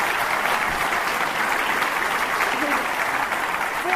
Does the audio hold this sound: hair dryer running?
no